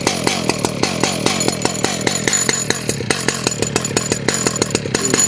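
Chainsaw milling cedar close to the ground, a steady loud engine drone broken by regular rhythmic revving pulses as the bar cuts through the wood.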